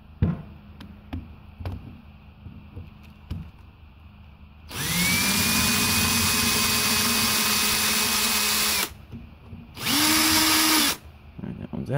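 A Ryobi power drill whines loudly in a sustained burst of about four seconds, then a shorter second burst, with quiet clicks and handling noise between them, while working on a Honda Harmony mower.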